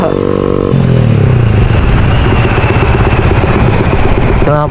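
A motorcycle engine roars loudly through its exhaust with a rising rev at first, then holds a steady rough drone with some clatter until a brief change near the end.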